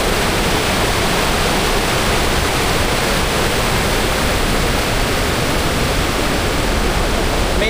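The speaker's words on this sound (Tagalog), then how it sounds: "nandito na tayo sa Bagongbong Falls" Bagongbong Falls on Biliran Island roars with strong, rushing water, a dense, unbroken wash of noise that stays loud and steady throughout.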